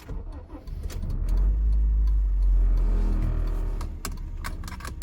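A Honda Civic FD6 is started from the driver's seat: a few faint clicks and a key jingle, then the engine cranks, catches and settles into a steady idle.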